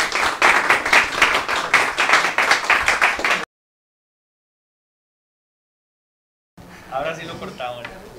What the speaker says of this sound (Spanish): un aplauso a doña Julia